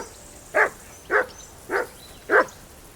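A dog barks in a video game set in medieval Bohemia, giving five evenly spaced single barks, close and clear, with no talk over them.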